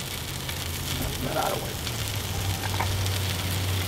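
Chicken puffs sizzle on a grill in a steady, unbroken hiss of frying that holds close and even throughout, with no voices over it.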